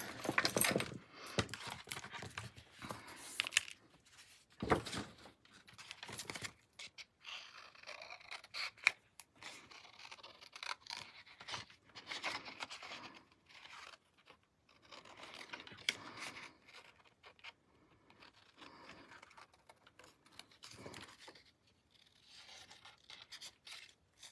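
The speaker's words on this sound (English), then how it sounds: "And I will fussy cut that little one once again" Scissors fussy-cutting a small paper leaf for a card, a long run of quiet, close snips and crisp paper rustles in irregular short bursts with brief pauses between cuts.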